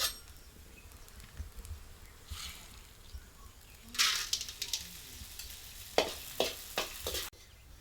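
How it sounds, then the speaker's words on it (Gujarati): Edible gum (gundar) frying in ghee in a pan, a continuous sizzle with bursts of crackling and popping as pieces are added and stirred, close and fairly loud toward the end. "આપણે થોડો થોડો ગુંદર તળતા જઈશું એમ નાખશું"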